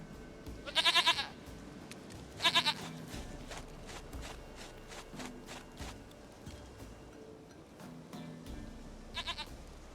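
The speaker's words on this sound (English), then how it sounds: "Goat of mine, dearest," Goat in The Witcher 3 bleats in short repeated calls, three distinct bursts spaced across the stretch over soft footsteps and game ambience.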